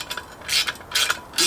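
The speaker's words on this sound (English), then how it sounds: "Right, just pulling this last bolt" A hand ratchet clicks through short back-and-forth strokes while undoing flex plate bolts on a Land Rover Defender 4.6 V8 conversion, close and crisp, three quick bursts.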